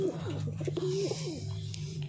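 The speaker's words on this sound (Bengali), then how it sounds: "এই একটা পায়রা আমার কেনা পায়রা, আমি কিনে এনে পুষি" A kept pet pigeon coos in low, soft rounded tones, a few short calls close by, over a steady background hum with no talk.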